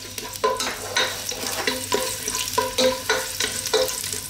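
Ginger frying in a little oil in a cooking pot for Filipino sinigang, with a steady close sizzle and repeated scraping stirs roughly every half second, and no talking.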